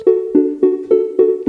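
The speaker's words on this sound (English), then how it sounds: "the first sound is this arpeggiated short sound with delay and reverb" Short arpeggiated synth notes built from an analog drum machine's kick drum repeat in a steady rhythm, each plucked tone ringing out with delay echoes and a reverberant wash trailing between hits.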